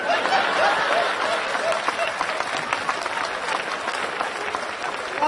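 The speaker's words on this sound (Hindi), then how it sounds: "दो तीन लोग ताली बजा रहे हैं" Audience clapping at a Hindi stand-up comedy show, a continuous patter of hands mixed with scattered chuckles and crowd murmur, fairly steady and moderately loud throughout.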